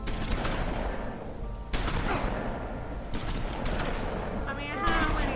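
Gunfire rings out in The Wolf Among Us video game: several sharp, loud shots and bursts with mechanical clatter over dense game sound, and voices talking alongside.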